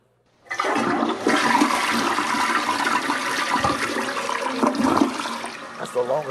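A toilet flushes loudly and close, starting abruptly after a brief silence and rushing on in a long, churning swirl of water that carries on to the end.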